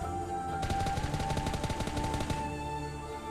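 Rapid gunfire in the PUBG video game finishing off a knocked enemy, a fast burst of many shots lasting nearly two seconds over a faint background hum, with no speech.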